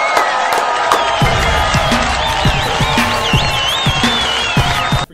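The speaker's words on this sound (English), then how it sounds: "Let's give a round of applause first." A crowd applauds and cheers loudly and continuously, with shouts and whistles rising over the dense clapping for the full length until it cuts off at the very end.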